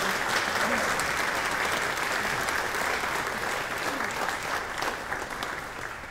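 A church congregation at a traditional service gives a warm, steady round of applause, many hands clapping together in a continuous wash that slowly tapers near the end.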